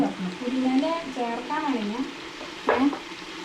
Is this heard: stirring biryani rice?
yes